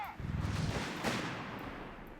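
Mortar fire in a World War II real-time strategy match, heavy booming artillery thuds rolling together near the start, followed by a sustained rumbling wash of battle noise.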